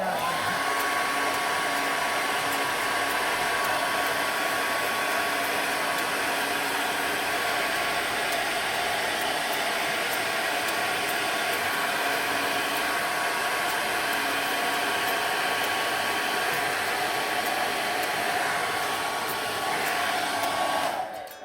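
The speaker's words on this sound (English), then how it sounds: "And this is my home hairdryer, my own personal hairdryer" A home hairdryer blows steadily for about twenty seconds, a constant loud whooshing roar with a high motor whine, no speech, cutting off at the end.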